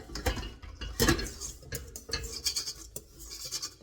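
A utensil scrapes and clinks against the sides of a mixing bowl holding egg and sugar for Swiss meringue buttercream, with irregular close scratching strokes and light metallic knocks and no talking.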